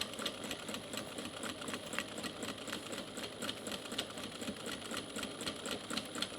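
A sewing machine stitches steadily through a fabric tote bag near existing seams, its rapid even mechanical clatter running continuously at a moderate, fairly quiet level.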